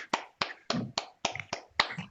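Several people in an online meeting clap, about eight sharp, separate slaps spaced evenly and close to the microphone, sounding like one or two pairs of hands.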